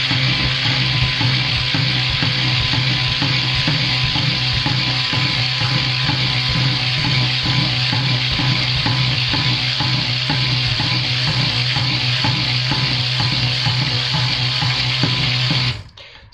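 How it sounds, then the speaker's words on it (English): A stick blender churns a small batch of soap batter outdoors on a beach, giving a steady, loud motor whir with a low hum that runs unbroken for about sixteen seconds before cutting off abruptly. No one speaks. "that was a hefty stick blending for this small amount of soap"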